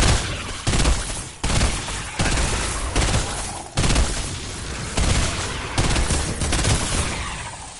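Bursts of video game gunfire rattle in rapid, dense volleys, each run of shots cut by short gaps, loud and close in a battle-royale style match.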